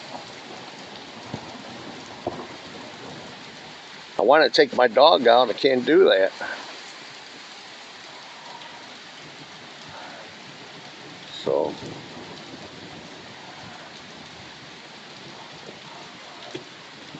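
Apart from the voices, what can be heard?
rain falling outdoors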